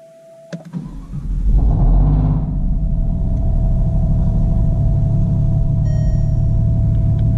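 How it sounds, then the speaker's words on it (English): An Alfa Romeo Giulia Quadrifoglio starts up after ABS error repairs, giving a short starter whir and then a loud catch into a deep, rumbling idle that settles and holds steady, with no talking. "Let's start the car up."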